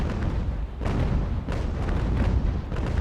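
Cannon fire from a sailing warship, the USS Jersey, in a naval battle video game: deep booming blasts roll into one another, heavy and continuous, with no voices.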